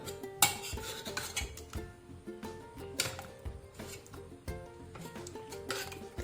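A spoon mashes cooked taro pieces in a curry for taro erissery, giving repeated clinks and scrapes against the pot in an uneven rhythm, close and fairly loud, with no speech.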